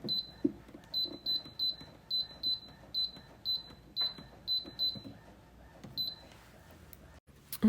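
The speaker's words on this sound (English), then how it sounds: "it'll beep at you when it's at temperature, and it continues to beep until you put your tumbler in and press the button" A PYD Life auto tumbler press beeps once it reaches temperature: a steady run of short, high, clean beeps in quick pairs and triplets repeats for several seconds over a faint room hum, with no talking.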